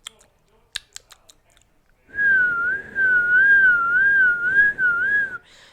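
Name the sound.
person whistling to imitate a heard sound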